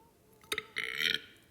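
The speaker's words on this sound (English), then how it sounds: "Weak burp." A short, weak burp, close and fairly quiet, in two brief bursts: a quick catch followed by a slightly longer croak.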